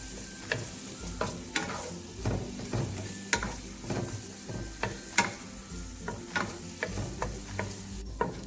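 Onions sautéing in a pan for corned beef hash give a steady crackling sizzle, broken up by regular scrapes and clacks of a spatula stirring, close and moderately loud, with no voices.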